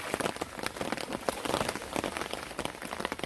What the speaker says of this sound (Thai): ฝนกระโชกดีแท้